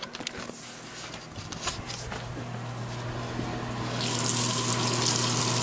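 A bathroom sink tap runs to soak a bassoon mouthpiece, first with soft splashing and handling noises, then the water flow grows to a strong, steady close rush.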